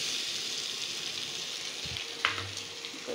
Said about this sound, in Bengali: সব কিছু ভেজে নিচ্ছি। নুডলসগুলো দিয়ে দিচ্ছি।